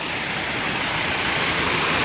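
A small waterfall pours into a brimming well, making a loud, unbroken rushing roar of falling water heard up close with no voices.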